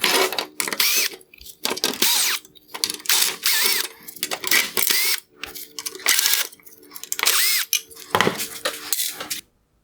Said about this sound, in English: I will remove the Phillips head screws holding on all of the LED lights